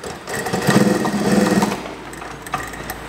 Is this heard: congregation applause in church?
no